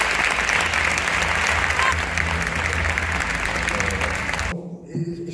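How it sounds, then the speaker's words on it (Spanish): Loud, sustained applause from a conference audience fills the hall for several seconds, then cuts off abruptly and gives way to quieter room sound. "Por favor, un fuerte aplauso"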